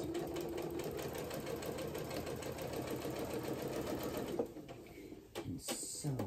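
A domestic sewing machine runs steadily for several seconds, stitching a seam on New Look 6859 pajama pants. It then stops briefly for backstitching and restarts in short bursts.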